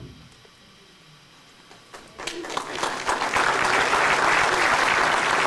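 Audience applause starting faintly, then swelling into loud, sustained clapping from a crowd that fills the rest of the clip.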